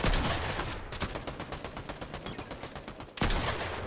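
An SK rifle in a video game fires in a long, rapid, evenly spaced automatic burst of loud close shots, then a short silence and a fresh volley that continues to the end.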